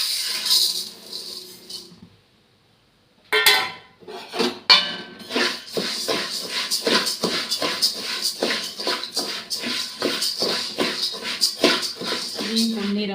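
Samba wheat grains being dry-roasted and stirred in a pan, a brief pause followed by a dense run of rattling, scraping strokes against the metal, close and fairly loud.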